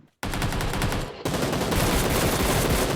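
Rapid automatic gunfire in the video game PUBG Lite, a loud, continuous burst of shots that starts abruptly after a brief quiet, stutters for a moment, then roars on without pause.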